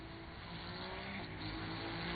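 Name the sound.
racing cars with tyres locking up, video game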